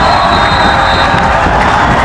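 A loud, dense crowd roars and cheers without a break in a gym during a boys high school basketball game, the noise constant and overwhelming from start to finish.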